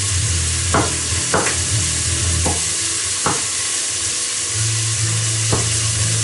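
Chunky garlic dropped into frying onions gives a steady, close sizzle, with a few sharp scrapes of a stirring utensil cutting through the constant hiss.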